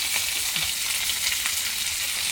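Onions fry in a pan for a fish fry, giving off a loud, dense sizzle that holds steady and close throughout. Faint stirring sounds rise through it now and then, and no one speaks.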